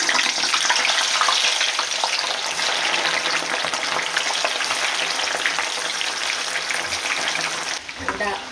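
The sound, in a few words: lentils deep-frying in oil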